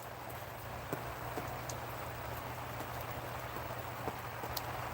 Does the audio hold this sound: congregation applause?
no